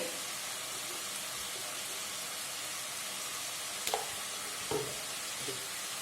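Cauliflower and bean curry with spices is stirred in a pan, giving a steady soft sizzle with a few faint scraping clinks of the spoon near the end.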